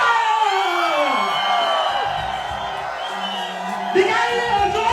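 A seminar audience at a youth empowerment event hollers and whoops over a loud amplified announcer voice and music, a busy roaring mix with shouts rising near the end.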